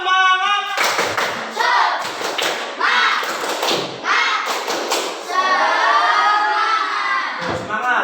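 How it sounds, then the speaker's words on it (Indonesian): A group of children perform a rhythmic spirit clap in a classroom, bursts of patterned clapping mixed with loud chanting voices, close and energetic. "Coba tepuk semangat."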